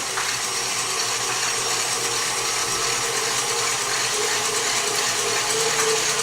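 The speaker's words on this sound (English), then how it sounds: "So now we get on high speed for the meringue, for the egg whites, so it gets really foamy." A stand mixer runs steadily at high speed, whipping egg whites into a foamy meringue for banana pudding, its dense mechanical whir and rattling beater noise continuous and loud throughout, with no talking.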